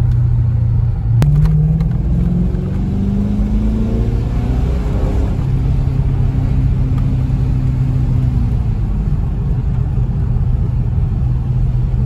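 An MG ZT 260 with a 4.6 V8 drives along, its loud deep exhaust drone rising and falling through gear changes, with a few sharp crackling pops near the start over steady cabin rumble.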